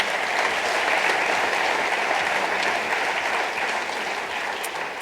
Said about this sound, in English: let's please give them another round of applause